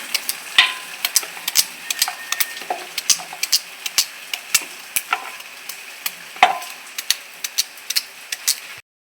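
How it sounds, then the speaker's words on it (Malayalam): A knife chops tapioca (cassava) on a cutting surface in a fast, steady series of sharp, close taps that continue throughout. "ചീനി ഇങ്ങനെ അരിഞ്ഞെടുക്കണം"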